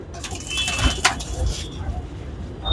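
Punjabi pigeons coo softly in low, rolling calls close by, with a few brief sharper chirps and shuffles in the background.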